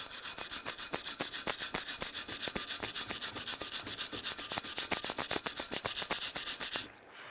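Steady, rhythmic scrubbing scrapes away corrosion from a metal heat sink under the ignition control module of a 1992-1996 Ford F-150, many quick even strokes close up, stopping abruptly near the end, with no speech.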